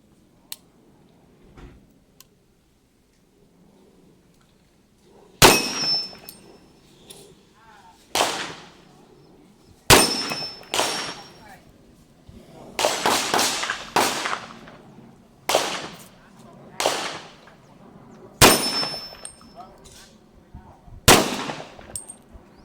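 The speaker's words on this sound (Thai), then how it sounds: "เดี๋ยวเราลองมายิง ยิงเหล็กแล้วกันเนาะ ยิงเหล็กดูนะครับ" A Colt 38 Super pistol fires at steel targets outdoors: about nine loud, sharp shots at irregular intervals, some landing with a metallic ring, over a quiet background.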